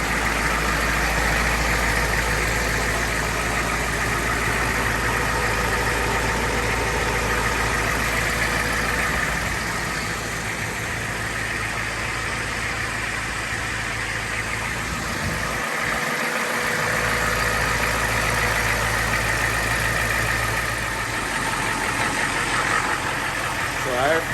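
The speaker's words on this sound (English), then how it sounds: "This is really loud out here because of this IDI." Old IDI diesel engine in a third-generation Dodge Ram 2500 truck runs loud and steady outdoors, a continuous heavy rumble filling the whole stretch, with a person talking over it.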